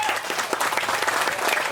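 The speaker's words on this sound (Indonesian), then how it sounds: "mohon untuk tepuk tangan untuk seluruh tamu undangan yang hadir" Applause from an audience of invited guests at a neighborhood RW candidate vision presentation in Griya Artha Rajeg, a steady dense patter of many hands clapping throughout, fairly close and even.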